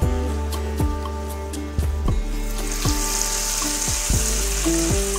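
Hot spice tempering with red chillies and hing is poured onto dal, giving a bright hiss and sizzle that builds, along with clinks and knocks of a metal spoon or ladle against the vessel.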